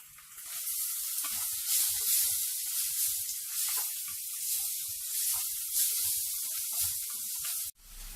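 Curry leaves and green chillies sizzling in leftover frying oil from fried fish, a steady bright hiss with crackling pops that stays loud and unbroken until a sudden drop at the end.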